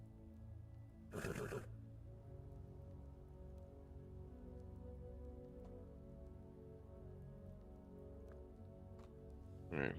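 A horse in the video game Medieval Dynasty gives one short, loud neigh early on over a steady patter of rain in a village, then only the rain continues.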